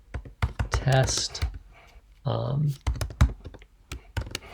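JavaScript code being typed on a computer keyboard, bursts of close, crisp key taps in an uneven rhythm, broken up by two short spoken phrases.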